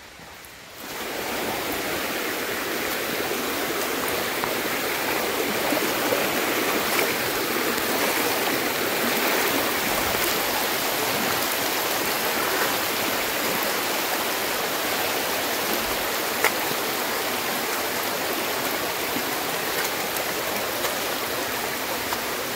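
A mountain stream rushes steadily along the Kudremukh trek in the Western Ghats, its broad, continuous water noise starting abruptly and holding loud and close throughout with no voices.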